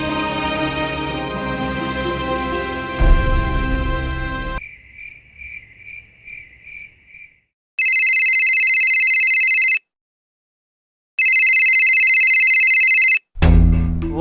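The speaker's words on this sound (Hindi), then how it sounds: "और ये बल्लू फोन क्यों नहीं उठा रहा है?" A phone rings in two long electronic bursts separated by a pause, loud and close, after a stretch of music and a few fading tones.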